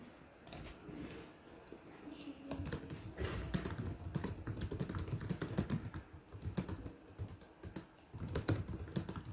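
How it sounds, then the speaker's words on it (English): Rapid, uneven clicking of Asus ROG laptop keys being typed on, close and steady throughout with brief pauses, no voices. "This is the sound of Asus ROG keyboard."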